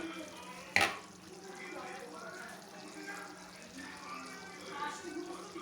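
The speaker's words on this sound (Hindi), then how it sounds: "इसको निहारी में आहिस्ता आहिस्ता शामिल करें और चमचा हिलाते रहें ताकि लम्स ना बने।" Mutton nihari is stirred with flour paste in a pot, opening with one sharp spoon knock against the metal, then soft continuous stirring, bubbling and gentle sloshing close by.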